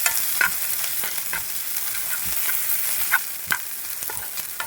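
Cashews fry with softened tomatoes in a pan for chicken curry, a continuous close sizzle broken by scraping stirs and occasional sharp spatters.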